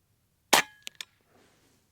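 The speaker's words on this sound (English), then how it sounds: "I'm just going to load a pellet in here and shoot it and see how fast it's going compared to the slug." A Karma SLS air rifle fires a 29.5 grain pellet: one sharp, close crack, followed by two quick metallic ticks and a faint tail, then quiet.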